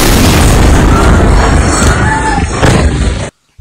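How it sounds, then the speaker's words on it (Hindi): A loud, close explosion from the Beirut blast roars with a deep booming rumble that sustains for a few seconds before cutting off abruptly. "इतने में ही वहां एक और बड़ा विस्फोट होता है"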